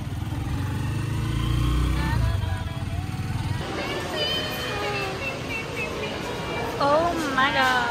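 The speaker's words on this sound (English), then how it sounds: "Oh my god, first trike ride in forever!" A Philippine tricycle, a motorcycle with a sidecar, rumbles close by during a ride, its engine loudest at first, while excited voices chatter and exclaim over it.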